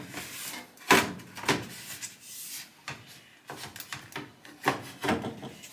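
A plastic control panel on an LG washing machine is pried free of its holding tabs, making a series of close scraping, rubbing and snapping bursts in uneven rhythm, with no speech.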